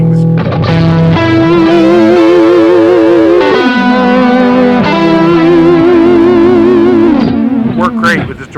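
A heavily distorted, buzzing guitar through a distortion pedal and PitchFactor effect plays sustained notes with wobbling pitch, loud and continuous throughout.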